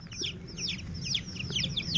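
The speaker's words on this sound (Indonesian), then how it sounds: "Kok suaranya kayak ayam?" A chicken clucking beneath an upturned basket, with quick chirpy calls repeating across two seconds over a low background rumble.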